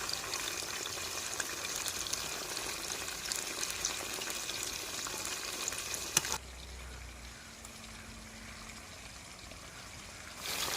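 Chicken 65 pieces deep-frying in hot oil, a steady dense crackling sizzle that drops abruptly to a quieter, softer bubbling partway through, close and continuous with no talk.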